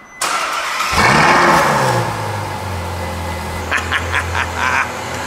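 A Ferrari F12 V12 fires up with a sharp starter burst, then settles into a loud, steady idle rumble with the exhaust note, followed by several quick throttle blips near the end.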